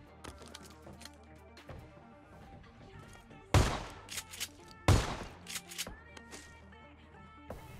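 Two heavy shotgun blasts in PUBG Mobile, each a loud booming crack with a short tail, separated by about a second and a half, followed by smaller clicks and rattles over quiet game ambience.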